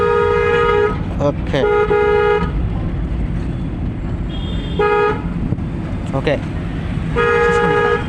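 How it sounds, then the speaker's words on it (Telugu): While someone drives a car through city traffic for the first time, its horn gives several loud, sustained honks in separate bursts, mixed with road noise and short spoken remarks. "హార్న్ దద్దరిల్లు పోవాలి"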